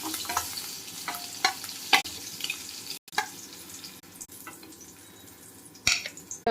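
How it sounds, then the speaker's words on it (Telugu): Chilli powder and turmeric fry in oil in a pan, giving a continuous close sizzle with a few sharp clicks and scrapes from stirring, and no voices. "కొంచెం కారం, కొంచెం పసుపు కొంచెం ఫ్రై చేసుకోవాలి"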